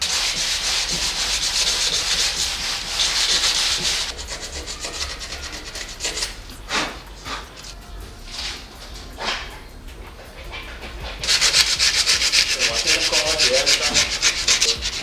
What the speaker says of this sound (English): So now I just have some 60 grit sandpaper, and then I'm gonna start smoothing it down.